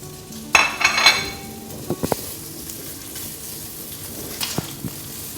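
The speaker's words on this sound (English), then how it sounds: "I'm going to add the bacon" Bacon dropped into a pan with a teaspoon of olive oil, giving a short burst of sizzling near the start followed by quieter clinks and pan knocks.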